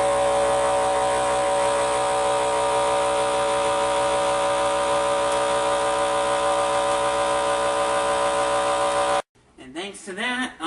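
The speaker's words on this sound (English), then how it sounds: "Next, you want to put the bag into your vacuum sealer and let it seal it up." A vacuum sealer pulls air from a bag of ribs with a steady, loud droning motor hum that runs for about nine seconds, then cuts off abruptly, followed by a person talking.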